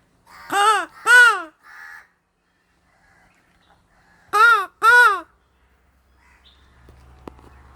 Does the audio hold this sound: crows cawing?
yes